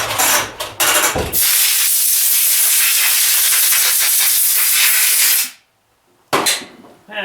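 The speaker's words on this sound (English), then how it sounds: "I'm just going to give her a blast of air here" A strong compressed-air blast cleans Ford 2N tractor input shaft parts, a loud, close, steady hiss lasting several seconds after a few short puffs, then a pause and another short burst.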